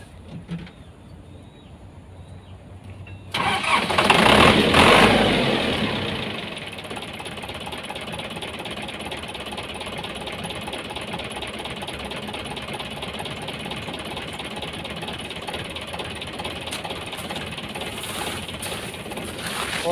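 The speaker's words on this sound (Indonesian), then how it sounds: "pertama-tama kita akan memanasi mesin dulu." A road construction machine's engine starts up after a quiet moment, surging loudly for a few seconds before settling into a steady, rumbling idle as it warms up, with no talking.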